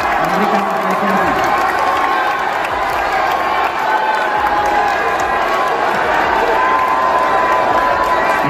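At an Indonesian political debate, the audience claps and cheers loudly and steadily throughout, a dense, close roar of applause and crowd noise with voices mixed in.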